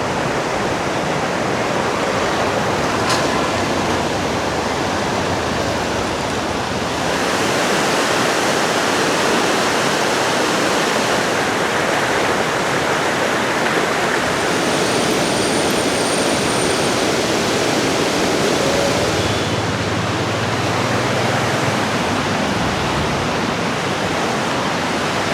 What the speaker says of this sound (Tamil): இதுதான் கூவாறு.